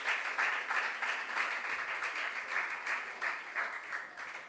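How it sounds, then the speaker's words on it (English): Steady applause from an audience at a junior science and maths quiz, many hands clapping continuously at a fairly distant, even level without any voices. "Let's clap for our contestants again."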